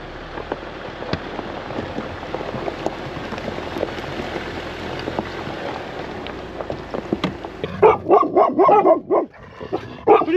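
Several dogs bark from a parked overland vehicle, a few sharp barks arriving near the end after a long stretch of steady rain-like background noise.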